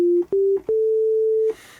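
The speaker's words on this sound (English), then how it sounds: "It opens with this sine wave already there." Pure sine test tone from the Structure Free sampler plugin in Pro Tools: two short steady beeps followed by a longer sustained tone, clean and loud, ending in a brief burst of noise.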